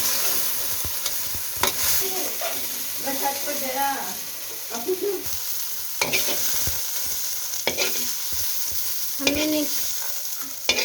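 Okra being stir-fried for a spicy Indian bhindi sabzi, with a steady sizzle under repeated scraping and stirring strokes of a spoon in the pan, close up, and a brief voice speaking over it.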